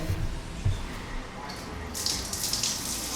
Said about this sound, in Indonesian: Sekarang kita coba siram pakai air gitu